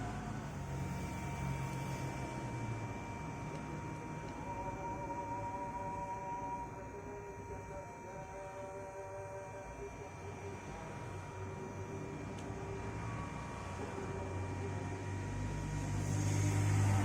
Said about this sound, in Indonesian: Saya gunakan blower di sini ya.